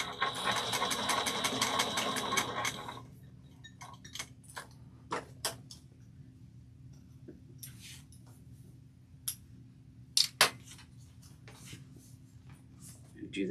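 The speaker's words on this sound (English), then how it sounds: "then base stitch it" A sewing machine runs a basting stitch on a backpack in one rapid ticking burst of about three seconds, followed by quiet handling clicks and taps.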